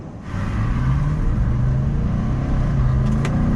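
Nissan Titan Pro-4X pickup truck engine while driving on a two-lane road: a steady, low, droning engine hum with road noise, heard from inside the cab at moderate loudness.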